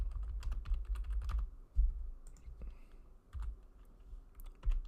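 Close computer keyboard typing while a SQL query is entered in MySQL Workbench, with quick irregular keystroke bursts separated by short pauses and no talking.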